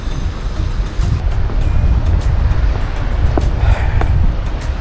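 Ocean waves rolling onto the nearly empty Kaup Beach in Udupi, Karnataka, a loud continuous roar of surf with wind buffeting the microphone and no speech.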